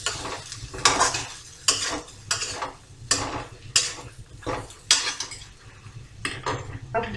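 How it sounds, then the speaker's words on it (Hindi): Eggplant being stirred into spiced masala in a pan for peanut baingan: repeated rhythmic scraping strokes of a spatula against the pan, roughly one every second, loud and close over a low sizzle, with no voices. "बैंगन को मसाले में अच्छी तरह से मिक्स करेंगे"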